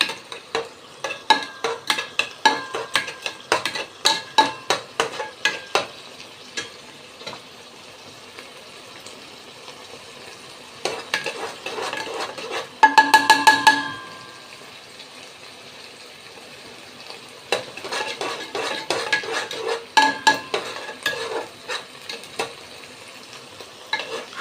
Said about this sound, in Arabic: معلقتين صلصة، معلقة السكر، وابدأ احور فيها كده في جنب الحلة